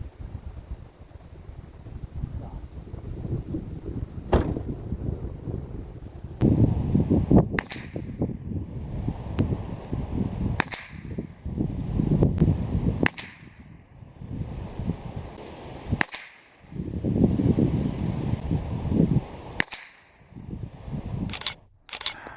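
Sharp .22LR rifle shots from a CZ457 PVR build ring out one at a time at irregular intervals, each crack followed by a brief decay over a steady background hiss, with about eight distinct reports spread across the stretch.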